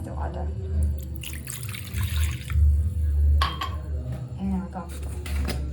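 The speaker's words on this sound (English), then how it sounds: "let's add first the water." Water pours and splashes into a container with clinks of dishes, while a person talks over the running water.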